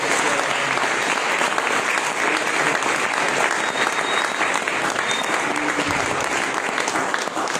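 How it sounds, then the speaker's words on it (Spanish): Steady, dense applause from a large congregation at a national church rally in Ecuador, loud and continuous throughout without letting up, with faint crowd murmur mixed in. "Vamos a darle un fuerte aplauso a Cristo."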